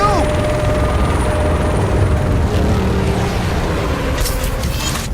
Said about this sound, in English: Oh god, he's got an attack chopper!